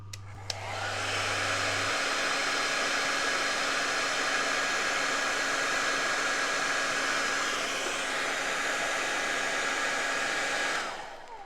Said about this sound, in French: Et on va se passer un coup de sèche-cheveux.